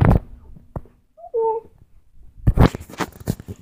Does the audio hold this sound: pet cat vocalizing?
yes